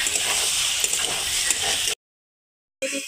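A pan of ground dried and green chilli paste gives off a bright, continuous sizzle as it is stirred and fried. The sound stops abruptly, falls silent for a moment, then briefly resumes.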